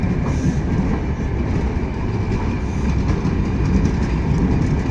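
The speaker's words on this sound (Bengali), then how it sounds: "আসলে বিশাল বড় ট্রেনটি ঢাকা থেকে ছেড়ে আসলো অনেক যাত্রী নিয়ে" A long passenger train bound for Rajshahi from Dhaka rolls past at a railway station, a loud, continuous rumble of rail cars and wheels with rhythmic clatter close by.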